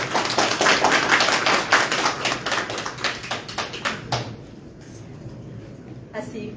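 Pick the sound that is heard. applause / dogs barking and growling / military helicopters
applause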